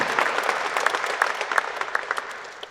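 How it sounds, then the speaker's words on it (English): Graduates of Sotheby's Institute of Art New York clap for themselves at their 2024 graduation ceremony: a dense, steady round of applause from a room full of hands, with sharp individual claps popping out of the wash. "Let's give ourselves a round of applause."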